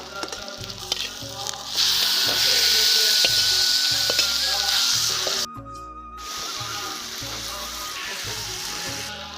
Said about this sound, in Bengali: তেজপাতা, পেঁয়াজ লাল করে ভেজে নেব। লাল করে ভেজে নিয়েছি, এবার মাংসটা দিয়ে দেব।